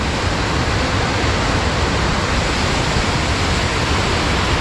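Rushing water at Pykara Waterfalls near Ooty roars as a dense, loud, steady wash of noise, close and unbroken throughout, with no voices.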